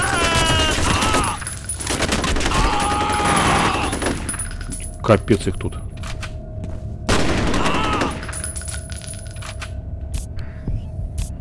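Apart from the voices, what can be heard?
gunfire in a video game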